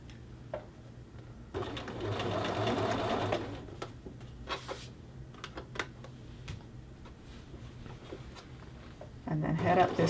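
A sewing machine stitches a men's shirt cuff, its motor running in steady bursts with a loud sustained run early on, short stops and restarts, and fabric handling between, close up.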